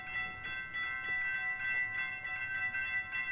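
Railroad crossing bells at train tracks ring in a steady, rapid repeating pulse, moderately loud and continuous, with no talking.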